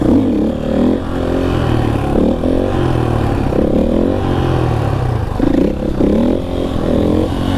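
Motorcycle ridden on the throttle while practicing coasters and balance tricks, its engine a steady, loud, close drone with repeated rising rev surges and some clattering, no talk over it.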